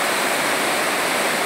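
Water pours over the spillway of the overflowing Acaraú Mirim dam in the backcountry of Massapê, Ceará, a steady, dense, full-band roar of rushing water that holds constant throughout with no voices.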